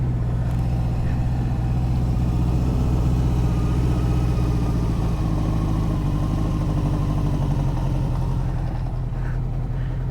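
A 1981 Honda CB750C four-cylinder motorcycle engine idles close by with a steady, even low rumble and a faint drop in speed near the end, with no talk.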